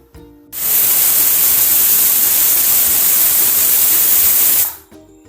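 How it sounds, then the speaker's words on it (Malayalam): A pressure cooker on a wood-fired stove lets out a single long, loud hiss of escaping steam that starts abruptly, holds steady for about four seconds, then cuts off sharply. "കുക്കർ ഒരു വിസിലടിച്ചു"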